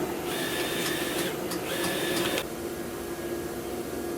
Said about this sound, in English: When it gets done printing